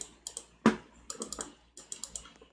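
A name typed on a computer keyboard during Roblox play, quick bursts of close, light key clicks separated by short pauses, one heavier keystroke early on.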